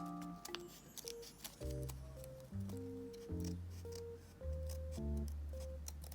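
Scissors snip through origami paper while a paper shrimp is being folded. A series of crisp, light clicks and cuts sits under steady background music.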